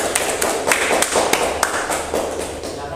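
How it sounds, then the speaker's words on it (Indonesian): A class of students applauds together in a school lesson, a dense run of overlapping claps with sharper individual slaps standing out, steady and fairly close throughout. "Tepuk tangan semuanya."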